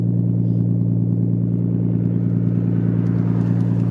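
A Nissan R32 drift car's loud exhaust drones at a steady, heavy idle up close, a deep buzzing rumble that holds unchanged throughout with no talk.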